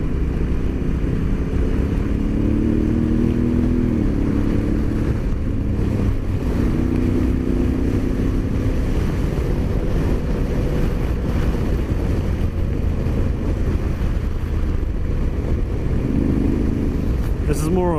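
Honda Africa Twin adventure motorcycle rolling along an inland dirt road, a steady engine drone under heavy rushing wind buffeting close to the rider, with no talking.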